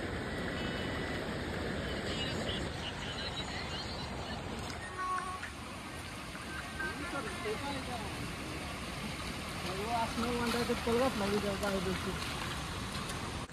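A river runs swollen and murky, giving off a steady broadband rush that continues throughout, with a few faint tonal sounds and brief noises over the flow.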